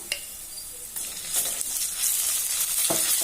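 Ginger garlic paste dropped into hot oil while cooking a broad bean curry, a steady bright sizzle that swells and holds, close and fairly loud with a few stirring clinks.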